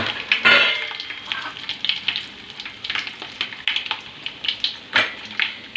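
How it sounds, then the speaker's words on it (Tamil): Mustard seeds, dried turkey berries and dried chillies fry in hot oil, giving a close, crackling sizzle with sharp popping bursts throughout. "இப்போ பார்த்திங்கன்னா கடுகு நல்லா பொரிஞ்சிடுச்சு. பொரியும் சவுண்டு உங்களுக்கே கேட்கும்."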